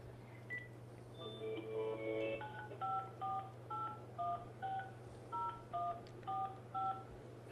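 A quick burst of DTMF tones from an IP phone, followed by a regular series of paired beeps from dialing, each key tone short and evenly spaced, quiet over a low steady hum.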